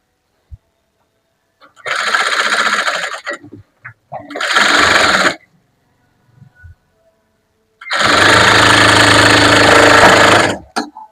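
A sewing machine stitches slowly around the curved neck of a chudidar, in three separate bursts of rapid mechanical whirring split by quiet pauses, the last burst the longest.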